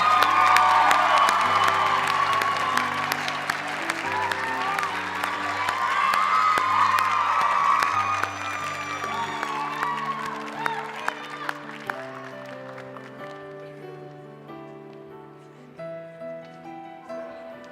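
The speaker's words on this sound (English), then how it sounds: "Let's applaud them." Crowd cheering, whooping and clapping for nursing graduates at a university pinning ceremony, loud and lively at first, then tapering as organ-like sustained music tones carry on and grow more prominent.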